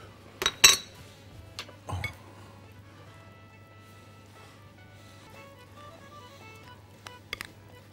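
Stirring mumbar with olive oil, salt and pepper in a cooking pot, a few sharp metal clinks and scrapes of a spoon against the pot over a low steady hum, then quiet, with a couple more clinks near the end.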